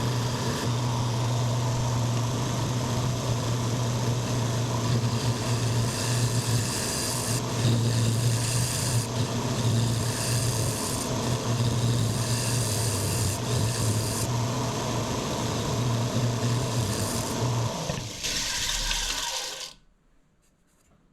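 A wooden candy dish spins on a lathe as a finishing pass runs steadily, a continuous raspy rubbing with a low motor hum, loud and unbroken for about eighteen seconds before the machine winds down and goes quiet.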